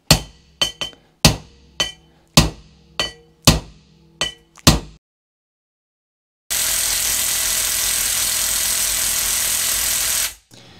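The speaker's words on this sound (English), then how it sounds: "Give it a tap with the hammer." A hammer taps a heated gear on a Land Rover drive train in about eight sharp metallic strikes. A gap of silence follows, then a long loud hiss, likely the torch, before it cuts off.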